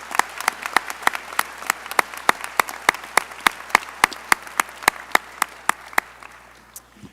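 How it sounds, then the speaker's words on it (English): Steady rhythmic clapping from an audience at a medical school hooding ceremony, sharp individual claps standing out at an even beat over softer background applause, tapering slightly at the end. "let's give him a round of applause anyways"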